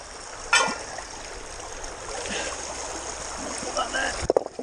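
Water trickles and flows steadily through a gold panning sluice by a Scottish stream, a close, low rushing wash with a few small splashes and knocks near the end.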